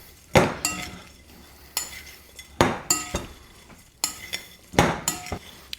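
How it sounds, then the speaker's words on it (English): A spoon scrapes and clinks against a dish while spreading a quarter cup of plain breadcrumbs over White Castle stuffing in muffin cups, with several sharp metallic taps and short scrapes in an irregular rhythm, close and fairly loud. "I'm going to grab a spoon here and just start"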